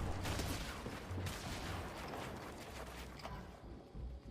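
Gunfire in Fortnite, rapid crackling shots and mechanical clatter that come fast at first and then thin out, quiet and muffled throughout.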